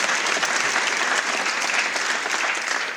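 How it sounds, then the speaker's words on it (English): A crowd at a hall of fame induction ceremony claps and applauds steadily for a few seconds, a dense, even patter of many hands. "We'll give him a round of applause."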